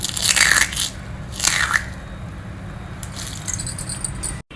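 Crisp crunching bites of sun-dried rice wafers, two loud bursts near the start and a softer flurry later, over a low steady background hum.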